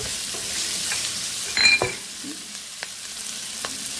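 Sliced onions fry in a pan with ginger, green chillies and garlic for an old-style chicken curry, a low continuous sizzle broken by one louder stirring scrape and a few light utensil clicks, with no speech.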